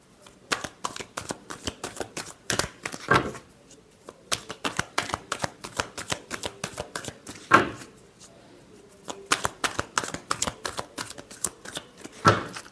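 Tarot cards are shuffled repeatedly in quick riffling bursts of crisp, papery flicks, close up, with short pauses between rounds.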